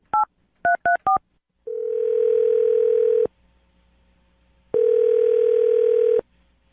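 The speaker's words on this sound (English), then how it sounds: "Okay, I'm dialing the phone number." Four quick touch-tone beeps as a number is dialed, followed by two long, steady ringing tones separated by a pause.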